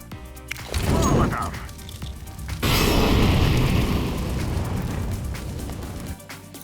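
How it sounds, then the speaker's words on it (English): A smoke grenade and a molotov thrown in CS:GO on the Ancient map: two loud bursts, the first a hissing release and the second a roaring whoosh of fire that lingers and spreads, with faint talk underneath. "Just throw the smoke as such and back up a bit and throw the molly"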